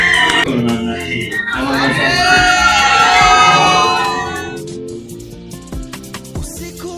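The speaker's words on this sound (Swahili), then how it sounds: "Pigeni makofi na vigelegele kwa ajili yao." Wedding guests cheer with a rising wave of warbling, high ululation that swells for a few seconds, then gives way to scattered clapping and crowd noise.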